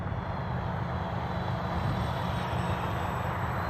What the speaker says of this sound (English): Just flying the airplane and just hearing it cut through the air